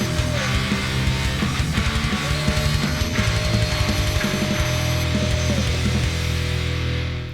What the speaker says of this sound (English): Very nice clean edge, just by using a router